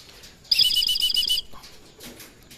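Young racing pigeons in flight training make a loud burst of wing flapping lasting about a second, then a fainter flutter a moment later, with no talk.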